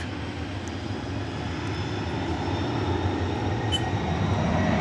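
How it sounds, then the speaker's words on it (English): American Airlines jet moving on the ground at DFW Airport, a steady, broad engine roar with a low rumble that holds constant and swells slightly, heard at a moderate distance. "American 2076 will roll down"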